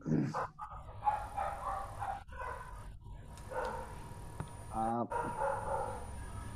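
A dog barks and whimpers in the background of an online class call, several short yips and barks scattered through muffled room noise, faint and distant, with a person talking at times.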